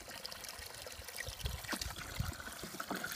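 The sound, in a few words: water filling a children's water table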